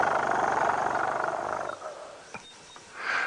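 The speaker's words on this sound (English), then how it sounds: "the low rumbles that I was talking about, that I heard in the beginning, that sound like that" Elephant on a sunset safari drive at Tingana: a loud, deep, sustained rumbling vocalisation for about two seconds, fading into quieter ambience with faint clicks and another swell at the end.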